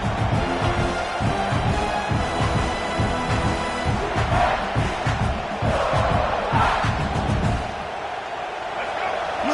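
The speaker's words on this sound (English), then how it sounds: "Listen to the crowd energy here in the early going." Stadium crowd at a football game roars continuously in a tough road environment, a loud dense wash of cheering and shouting that swells and dips slightly, with faint commentary voices underneath.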